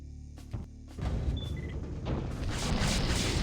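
A Shiva enemy firing in the game Slave Zero: a heavy boom at about one second swells into a loud, sustained roar of blasts and rumbling that builds toward the end, with no talking.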